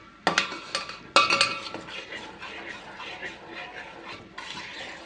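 Chhena, sugar and grated coconut stirred in a pan over a low flame for sandesh: two sharp metallic clinks of the spoon against the pan, then soft continuous scraping and stirring with a faint sizzle, close by.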